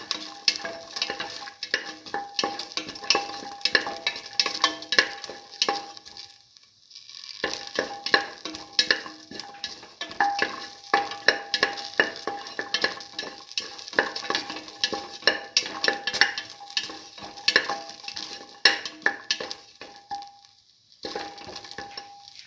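Salted garlic and shallots sauté in a pan with a close, continuous sizzle and frequent stirring scrapes, broken by two short silences and no speech.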